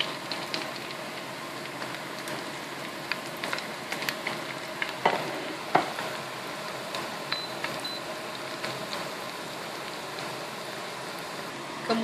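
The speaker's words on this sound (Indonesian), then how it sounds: "Kemudian kita goreng pastel kita." Pastel pastries deep fry in hot vegetable oil, giving a steady, fine bubbling sizzle like light rain, close and moderate in level, with a couple of faint clicks and no voices.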